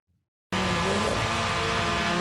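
A Toyota Supra drag car at a Japanese JDM drag racing event bursts in suddenly after half a second of silence, a loud, sustained engine roar with tire noise that holds steady to the end.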